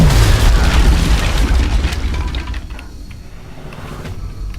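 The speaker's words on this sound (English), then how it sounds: "Come on, throw the grenade. Throw the grenade." A grenade explodes in the video game XCOM multiplayer: a loud, close boom that opens at full strength and rolls off into a fading rumble over several seconds.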